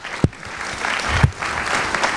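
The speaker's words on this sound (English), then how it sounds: "I would love a huge round of applause" Short stretch of conference audience applause, a dense wash of clapping with a couple of sharp low thumps standing out.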